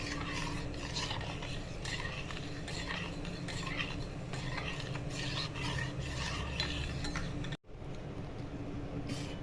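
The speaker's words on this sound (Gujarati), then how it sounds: "ધીમે ધીમે ધીમા ગેસ પર હલાવતા જવું નીચે મિલ્ક પાવડર ચોટે નહીં બળે નહીં" A spoon stirs milk mixed with milk powder in a pot over a low flame, producing continuous scraping and clinking with a steady rhythm close by, then a brief break before stirring resumes.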